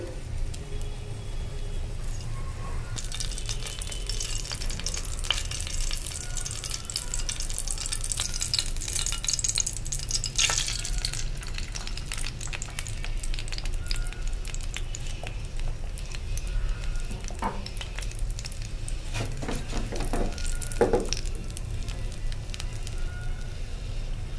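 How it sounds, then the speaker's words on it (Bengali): Oil heating in a pan for frying egg, with a steady soft sizzle and crackle running throughout, plus occasional sharper spatters and clinks close by. "ডিম ভাজার জন্য দিয়ে দিচ্ছি তেল।"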